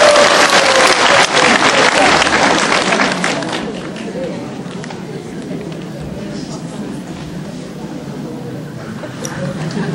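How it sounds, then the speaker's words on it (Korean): Audience applause for a student presentation at a school group retreat: loud, dense clapping that eases slightly after a few seconds and then holds steady, with crowd murmur mixed in. "큰 격려의 박수 다시 한번 부탁드립니다"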